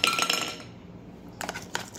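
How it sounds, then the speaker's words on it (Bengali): A metal lid clinks onto a cooking pot on the stove, a cluster of bright rattling taps at first, a short quiet pause, then a second burst of clinks as the lid settles. "আমি এবার ঢাকনা দিয়ে দেবো।"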